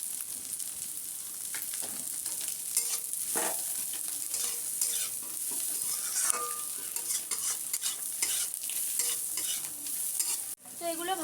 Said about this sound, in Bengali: ভাজাটা দিয়ে ভালো করে নেড়ে নিতে হবে